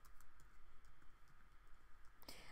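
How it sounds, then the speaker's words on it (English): Quiet, soft clicks of typing on a Mac computer keyboard, a few scattered keystrokes over faint room hiss, then a sharper tap at the end, with no talk. "we're gonna type in anything"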